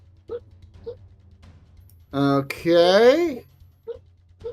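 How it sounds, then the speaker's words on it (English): A dreaming dog whimpers in soft, brief yips scattered through the clip, faint behind nearby speech in a quiet room. "It sounded like she's just like whimpering or something."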